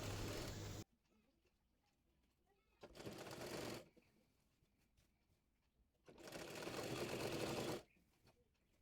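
Sewing machine stitching pleated salwar fabric onto a waistband, running in three loud bursts at the start, middle and end with quiet gaps between.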